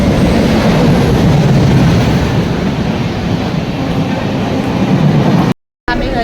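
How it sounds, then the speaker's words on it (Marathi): Interior of a moving suburban train near Dombivli, a loud continuous rumble and rushing roar of wheels and carriage noise, steady throughout with a brief dropout near the end. "आम्ही घरी चाललोय ट्रेनमधून."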